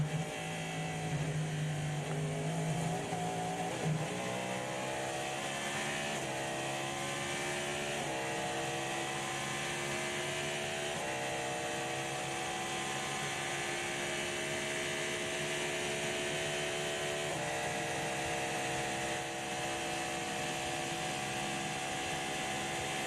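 Onboard race car engine on a lap of the 2024 Rolex 24, a loud, steady high-revving drone that rises through the gears and drops at each downshift, repeating for the whole stretch with no talk.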